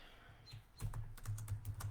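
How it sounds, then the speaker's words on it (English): Quiet, rapid typing on a computer keyboard, a quick burst of clicky keystrokes after a brief pause. "I'm just typing this in."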